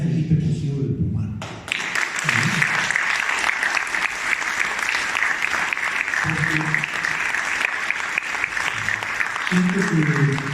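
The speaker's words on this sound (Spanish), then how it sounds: "yo quisiera pedir un aplauso enorme a Felipe Cosío del Pomar" Large audience applause at a talk on the life and work of Felipe Cossío del Pomar in San Miguel de Allende, a loud sustained wave of clapping with a speaking voice briefly heard at the start and end.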